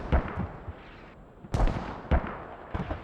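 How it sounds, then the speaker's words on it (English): Mortar rounds in the tactical shooter Squad land one after another: several heavy, booming blasts with rumbling tails, some near and some further off, spaced irregularly across the clip. "just mortars"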